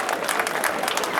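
An audience applauds at a commemorative ceremony honouring firefighters. Dense, steady clapping from many hands sounds close and fills the whole short moment.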